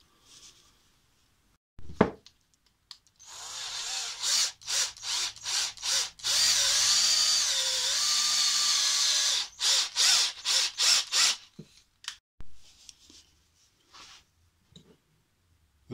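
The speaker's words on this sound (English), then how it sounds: "dowel I'm drilling an 8mm hole on one end." Power drill boring an 8mm hole into one end of a wooden dowel, heard as a series of short loud bursts, a long sustained run in the middle, then more quick stop-start pulses before fading to quiet.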